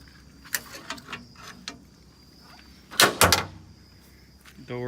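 Door on an XP Turbo buggy opening by switch, a cluster of close mechanical clicks and latch clunks followed by a louder release thump, with faint hum in the background.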